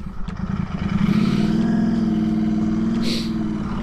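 Royal Enfield motorcycle engine pulling away and accelerating, a close low throbbing exhaust that rises in pitch and holds steady as the ride gets under way.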